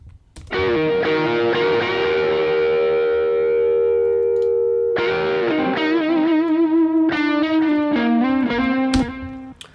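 Sustained lead electric guitar notes through an amp modeler, with a smooth, slightly driven tone, ring out and bend, followed by a quicker run of notes, played alone.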